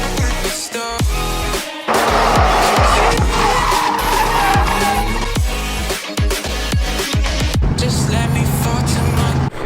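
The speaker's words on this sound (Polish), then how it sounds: "jeden z y, zawodników trenujących odlatuje z treningu, wytrenował się, opony wszystkie spalił, ucieka do domu." A drift car at a Drift Day training session at Tor Kielce, its tyres worn out, skids with loud, sustained tyre squeal and engine roar, then drives away from the track. The sound stays close and loud throughout.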